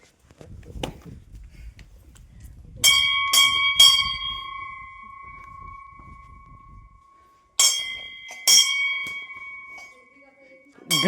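A small bell rings out in clear metallic strikes: three close together, then a pause, then two or three more, with a sustained ringing tone, a few scattered knocks and a faint voice in between.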